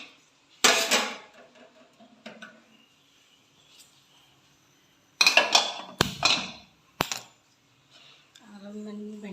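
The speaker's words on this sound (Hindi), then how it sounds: "और चलो कढ़ाई धर लो" Metal kadai being set onto a kitchen stove before frying bhindi, giving a few loud clanks and knocks with short gaps between them, followed by a faint low hum.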